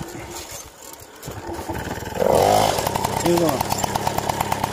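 A Motobécane moped engine starts up after a short spluttering attempt and then settles into a steady, close, buzzing idle, with someone speaking briefly over it.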